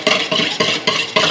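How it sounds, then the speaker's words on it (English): Caesar dressing ingredients whisked together in a bowl, a close, brisk rhythmic stirring with about five evenly spaced scraping strokes and no talk. "I'm gonna whisk this together first."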